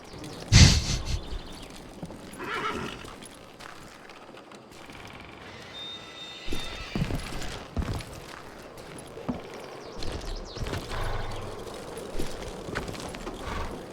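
Horse hooves clip-clopping and footsteps in the Western shooter video game Call of Juarez Gunslinger, a soft irregular thudding gait with a sharp knock near the start and occasional louder hoof hits later, moderately quiet against a low ambient background.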